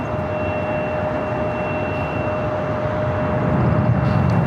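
A large jet such as an A380 or 747-8 taking off on the south side at LAX, a steady broad roar with a rising low rumble toward the end, alone without talk.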